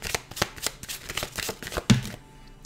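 Tarot cards are shuffled in a fast run of crisp, rapid riffling flicks, close and fairly quiet, ending in a brief pause.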